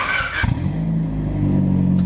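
A Honda Civic with a bolt-on 3-inch full exhaust revs up, its engine note rising from a brief burst into a steady, loud, droning hum close by.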